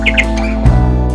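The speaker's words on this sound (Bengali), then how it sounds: "চারপাশে শোনা যায় পাখির ডাক" Birds squawk and chirp beside a river during a boat ride in hilly Jaflong, with two brief high calls early on over a steady low engine-like drone, then a louder rumble.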